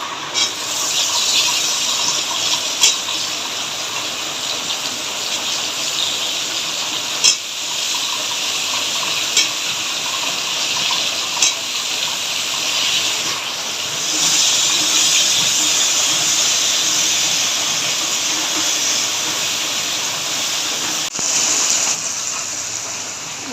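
Papaya pieces for a prawn, papaya and potato curry sizzle steadily in a hot pan with turmeric and spices, a continuous close frying hiss with small spits and occasional stirring clicks, no talking.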